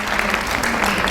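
Citizens applaud a violin duo's street performance outdoors, a steady dense patter of clapping hands from a gathered crowd throughout, moderately loud and continuous with no talking.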